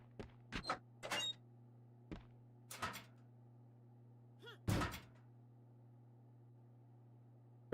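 A stuck door in the video game Crow Country rattles and thunks in a few short, sharp bursts, then a louder clunk after a pause, over a steady low electronic hum.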